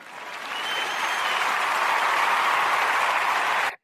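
A podcast studio audience breaks into applause, the clapping swelling quickly into a steady, full burst that lasts a few seconds and stops abruptly, with no voices over it.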